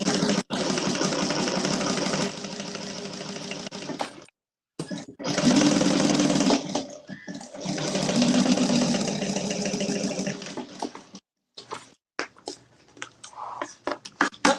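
A sewing machine stitching a slip pocket runs in bursts of steady mechanical whirring, loud and close, broken by short pauses and softer handling noises toward the end, with no talking.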